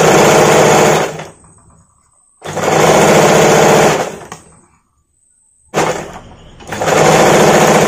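A sewing machine stitches princess cut blouse fabric in three strong, steady runs, each lasting a second or more and separated by brief silent pauses.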